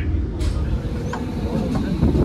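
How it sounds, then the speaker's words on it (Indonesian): Ijen Express train pulling into Bangil station, a steady loud low rumble of rolling cars with faint higher squeals overhead and no clear talk. "Perjalanan kereta api Jane Express tiba di stasiun Bangil awal 7 menit dari jadwal"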